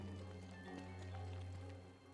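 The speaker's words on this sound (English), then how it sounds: "Hopefully the rain stops soon" Rain falls in the video game Don't Starve, a soft, steady patter of drops that stays faint and even over a couple of seconds, with a low background hum.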